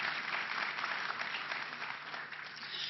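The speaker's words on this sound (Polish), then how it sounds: "chociaż jeszcze oklaski dla pana ministra Giżyńskiego" An audience at a conference on European funds for accessibility applauds steadily, a dense, even patter of clapping that holds for a few seconds without voices.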